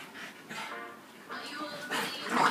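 Staffordshire Bull Terriers whimper and yip in short, high bursts at close range, overlapping with a person's excited talk as the dogs greet a new puppy.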